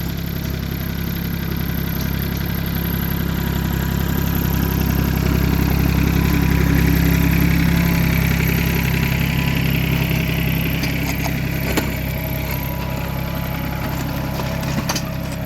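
A Swaraj Target 630 mini tractor's Yanmar diesel engine runs steadily nearby, a continuous low throbbing drone with a faint mechanical rattle and no voices.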